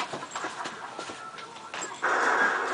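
Dog whimpering indoors beside a Wii, faint high whines and breathy sounds over steady room noise, with no one talking.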